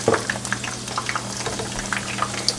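Butter-rubbed pierogies fry in a pan, giving a light sizzle dotted with irregular small crackles and pops over a low steady hum, close up and without speech.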